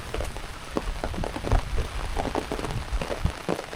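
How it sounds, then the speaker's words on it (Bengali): Steady rain patters on surfaces outdoors on a village path, a dense, even hiss of drops with small irregular splashes, moderately loud and without voices. "বৃষ্টি অনেকটাই কমে গেছে"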